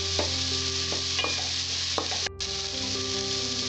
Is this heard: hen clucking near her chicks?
no